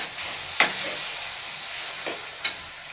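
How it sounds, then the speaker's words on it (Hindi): Spice masala frying in a pan with oil while being stirred, a steady soft sizzle and hiss with a few sharper scrape or spatter accents, close and moderately quiet. "चला चला के फ्राई करेंगे।"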